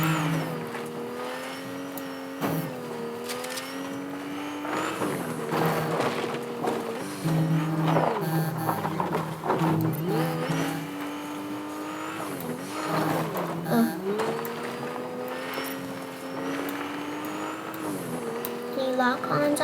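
A car in a video game drives with a steady, rising and falling engine drone that stays loud and continuous. Brief tire-skid sounds may be mixed in.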